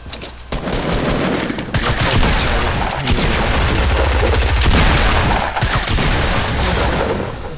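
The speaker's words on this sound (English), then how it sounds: "He was shooting at the wall!" Loud, continuous gunfire in a first-person video game match, with rapid automatic bursts and heavy booming shots overlapping nearly the whole time, close and dense.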